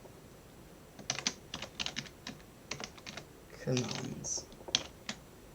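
C# code being typed on a computer keyboard produces rapid, uneven bursts of crisp key clicks close to the mic, with someone briefly speaking in between.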